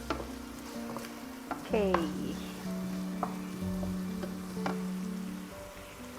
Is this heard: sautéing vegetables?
yes